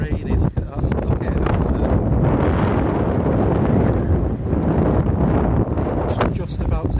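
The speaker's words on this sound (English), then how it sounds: "it's so windy and rainy" Strong wind roars across a microphone on a stormy beach with rain, a loud continuous buffeting rumble with gusty surges throughout.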